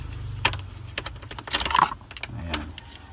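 A car key ring jangles as the key is inserted, bright metallic clinks and rattles in short clustered bursts over a low hum, close and fairly loud.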